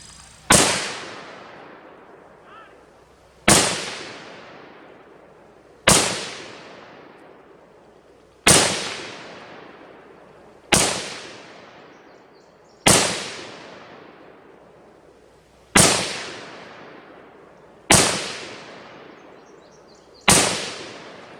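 An SKS rifle loaded with 7.62x39 ammunition fires nine loud, booming shots at a slow, even pace about two and a half seconds apart, each blast ringing out and fading before the next.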